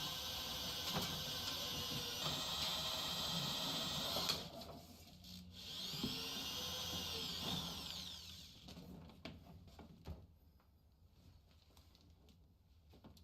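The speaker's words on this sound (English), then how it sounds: "Drill doesn't even smell like it's burning." A power drill, used to strip wire, runs in a loud, steady whine for about four seconds, then spins up again briefly and winds down, followed by rattling handling noises.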